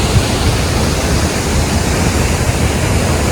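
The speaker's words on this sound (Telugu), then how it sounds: "సార్ చూడండి ఎట్టుందో వాటర్ ఫాల్స్." Athirapilly waterfalls in Kerala roar with a loud, dense, unbroken rush of falling water and spray, steady and close, filling the whole scene without voices.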